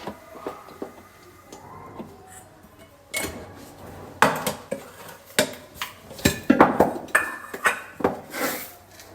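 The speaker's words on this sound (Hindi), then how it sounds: "अब सामान डाल देती हूँ मैं अपनी चाय का, थोड़ी सी चाय पत्ती" Tea leaves and other ingredients go into a pot for tea in a home kitchen: a run of close metal clinks, taps and clatters from utensils and pans, irregular and growing busier toward the end.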